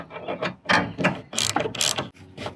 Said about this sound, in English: finish tightening it with a 3/16 Allen head socket